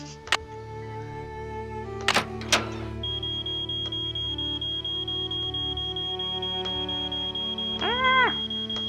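A steady electronic alarm tone sounds inside the Nancy Drew: Treasure in the Royal Tower video game, rising from brief clicks and bleeps into a continuous high beep that holds for several seconds, with a short warbling chirp near the end.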